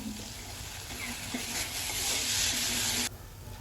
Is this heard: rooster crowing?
no